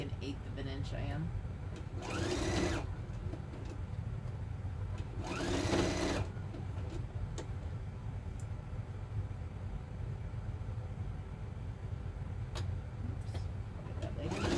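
A sewing machine stitches with a steady, continuous mechanical whirr. Two louder bursts of fabric rustling and handling interrupt it partway through.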